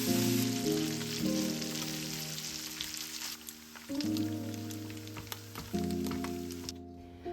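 Pork brisket fries in a dry pan without oil until crisp, a continuous crackling sizzle with scattered spattering pops, heard close beneath sustained background music.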